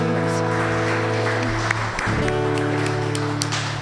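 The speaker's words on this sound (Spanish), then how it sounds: "Bríndele un fuerte aplauso a nuestro Dios que vive y reina por los siglos de los siglos." Congregation applauding during a Sunday church worship service, a dense sustained wash of clapping over steady organ or keyboard chords, with a brief dip near the middle.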